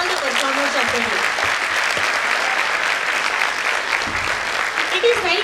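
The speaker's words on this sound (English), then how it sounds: "Can we have a big round of applause for all the performers of the day?" Audience at a school annual concert claps for the performers with full, sustained applause. Voices and cheering rise over it at the start and fade as the clapping continues.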